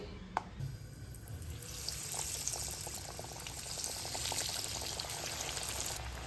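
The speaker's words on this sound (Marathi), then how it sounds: "आता हे तळते डीप फ्राय करायचे आहेत आपल्याला हे" Vegetable cutlets made from leftover vegetables, with no bread, deep fry in hot oil over a low-to-medium gas flame. A steady, close, hissing sizzle with faint crackle runs unbroken throughout, with no talking.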